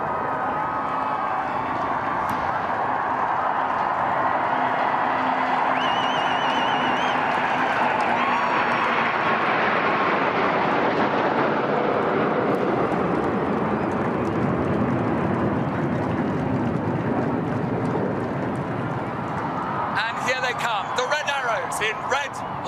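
Fifteen RAF Typhoon jets fly over in formation at the Queen's Platinum Jubilee air display, a broad rising-and-falling roar that swells and fades across the sky, with crowd noise and commentary voices underneath.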